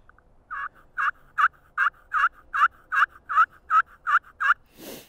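About a dozen scratchy, high-pitched turkey yelps from a slate call, evenly spaced and rising in pace, close and clear, ending with a brief rough scrape.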